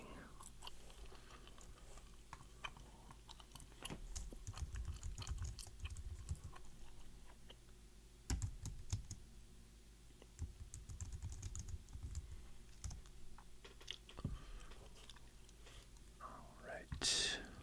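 Computer keyboard being typed on in quiet, scattered clicks and short runs, under soft whispering and gum-chewing sounds in a hushed, close setting.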